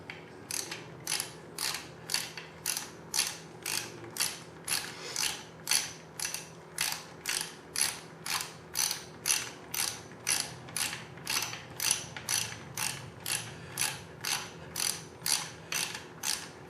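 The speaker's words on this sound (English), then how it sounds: "You're going to hear it ratchet as the tension is applied to the cam chain" A Kawasaki KX250F dirt bike cam chain tensioner ratchets as tension is applied to the cam chain, producing a long, even series of crisp, close mechanical clicks at a steady rhythm.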